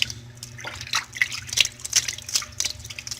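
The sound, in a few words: Android phone swished in hot water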